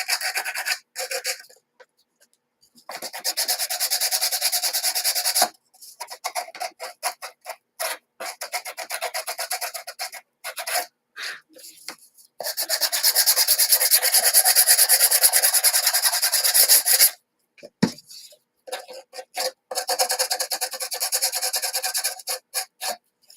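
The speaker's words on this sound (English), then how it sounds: "So I'm going to go ahead and sand this while I don't have the little outline on." A nail file rasps against the edges of a nail-art transfer in repeated bursts of close, steady rubbing, broken by short pauses and one long sustained stretch of filing.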